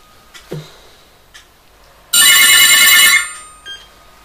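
A telephone rings once in a single loud, sustained electronic burst lasting about a second, set among quiet room sounds with a few faint clicks and a brief sniff before it.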